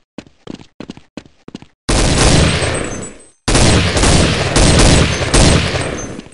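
Gunfire in Counter-Strike 1.6: a few short separate shots, then long loud bursts of rapid automatic fire with a brief pause between them, close and harsh.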